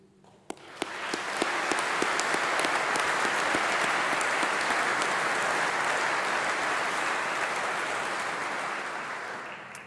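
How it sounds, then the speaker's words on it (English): Audience applause at a university graduation ceremony, starting with a few scattered claps and swelling quickly into loud, sustained clapping from a large crowd that holds steady before easing slightly at the end. "let's give a huge round of applause, please, to those who have supported you and made all of this possible"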